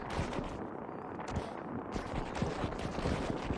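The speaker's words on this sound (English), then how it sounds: "So now the gun's gonna shoot really, really fast." Rapid gunfire from an upgraded high-fire-rate gun in Utopia Must Fall, a fast continuous stream of sharp shots with loud booming impacts, steady throughout with no talk.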